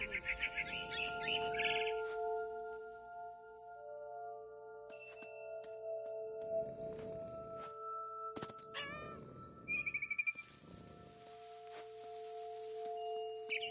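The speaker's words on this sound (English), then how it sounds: "Then I heard chirping outside my window. It was a barn swallow going back to her nest." Barn swallow chirping outside a window in the video game What Remains of Edith Finch: quiet, scattered high chirps and tweets in short bursts over faint steady tonal game ambience, with occasional soft thuds and movement.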